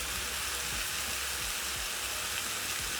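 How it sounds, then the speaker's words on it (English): Steady crackling sizzle of potatoes frying in bacon grease in a pan, continuous and fairly soft, with no voices. "I'm frying my potatoes in the bacon grease that remained when frying my bacon"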